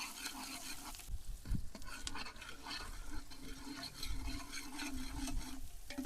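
Onions frying in a pan for extra-spicy Maggi noodles give a quiet, close sizzle with scattered scraping and tapping from stirring, fairly faint throughout.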